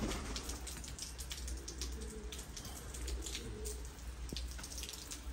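Steady rain falls throughout, a dense even patter with scattered closer drips, heard outdoors around a loft of Sialkoti pigeons. No voices are heard.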